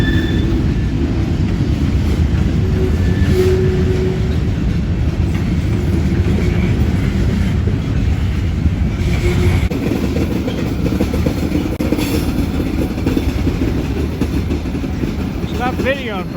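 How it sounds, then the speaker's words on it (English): A Norfolk Southern freight train creeps slowly through Princeton, Indiana, a loud, steady low rumble with faint squeals and clanks throughout. "The train has slowed way down."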